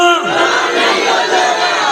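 A large crowd at a religious conference loudly chants a slogan back in unison, a dense roaring group shout filling the whole moment.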